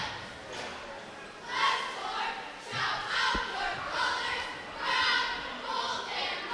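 Crowd cheering at a high school boys basketball game, hyped by cheerleaders and a pep band, with swelling waves of shouts and a single thud, heard fairly faint and distant.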